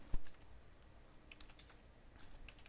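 Someone types code on a computer keyboard in a quiet room: a few soft, close keystroke clicks spread over a couple of seconds, one louder tap at the start.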